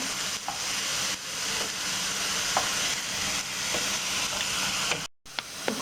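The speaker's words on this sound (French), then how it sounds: "je viens de mettre dans un filet d'huile d'olive l'oignon" Chopped onion fries in a drizzle of olive oil for a creamy mushroom sauce, a continuous close sizzle with occasional soft stirring scrapes and a brief break near the end.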